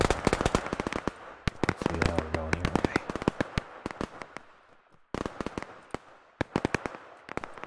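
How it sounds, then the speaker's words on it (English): An M60 machine gun firing in the video game Operation Harsh Doorstep: rapid, loud bursts of sharp shots in quick succession, broken by one short pause, with distant battle noise and a faint voice underneath. "That M60 is just going at it."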